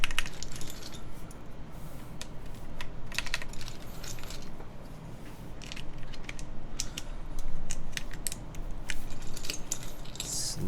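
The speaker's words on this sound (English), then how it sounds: "Let me just put the keycaps on" Plastic keycaps being pressed onto the switches of a Keycult No. 2 TKL custom mechanical keyboard, a steady run of close, light clicks and taps over a quiet background hum.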